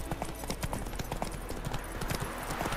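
Galloping horse hooves in The Witcher 3 video game, a steady, rapid clip-clop rhythm of repeated hoof beats running throughout at an even, fairly loud level.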